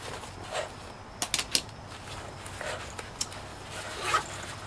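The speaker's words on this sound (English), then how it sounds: "I really like the zippers, the zipper pulls on the Vibe here by Mountainsmith" The zipper pulls on a Mountainsmith Vibe bag rasp in a few quick, close bursts of zipping, with soft handling rustle in between and no talk.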